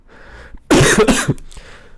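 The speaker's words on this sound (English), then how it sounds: "Still coughing." A single close, harsh cough burst with a throaty follow-up, preceded and followed by quiet breathing.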